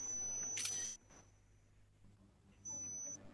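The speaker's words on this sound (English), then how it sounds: "I heard the shutter sound" Camera shutter clicks sound during an online STEM webinar: a brief, faint broadband burst with a thin steady tone, then a second similar burst later.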